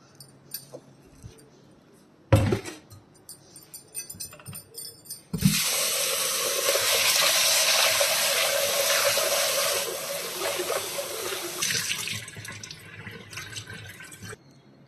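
Tap water runs into a cooker to rinse chana dal, first as scattered clinks and splashes, then as a loud, steady gush for several seconds before easing into lighter splashing and handling.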